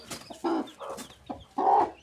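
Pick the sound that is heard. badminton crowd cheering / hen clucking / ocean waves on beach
hen clucking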